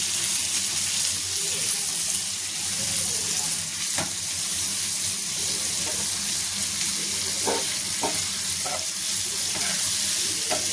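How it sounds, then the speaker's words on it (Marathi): Fish frying in a pan on a low flame, a steady close hiss of oil with occasional clinks and scrapes of a utensil, continuous throughout with no talking. "नाही, तर मंद याच्यावर फ्राय होऊ दे, त्याचे कच्चे राहतात."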